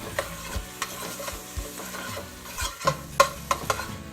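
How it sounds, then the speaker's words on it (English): A spoon stirs chopped onions in a pot for Mexican-style pot roast, giving repeated scraping knocks over a steady sizzle, close and fairly loud. "And now we're going to stir this through the pot."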